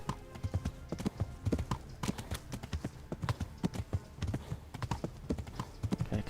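Rhythmic hoofbeats of a galloping horse in the video game Kingdom Come: Deliverance pound steadily and fairly loud, a quick repeating clip-clop with no voices.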